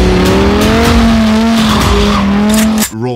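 An Audi R8 performs a rolling burnout through snow, its engine revving loudly with a sustained droning pitch and spinning tires hissing and squealing close by, ending with an abrupt cut.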